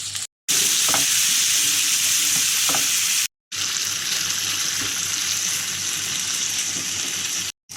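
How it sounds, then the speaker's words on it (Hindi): Marinated chicken frying on a high flame for tikka biryani, a loud steady sizzle with stirring scrapes, broken by two brief silent gaps. "अब हम चिकन को हाई फ्लेम पर चिकन का पानी सूखने तक भूनेंगे।"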